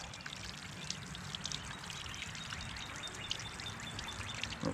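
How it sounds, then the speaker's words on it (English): Water from a hose washing out a freshly cleaned trout, a faint, steady pouring and splashing stream with no voices. "Now get your water hose."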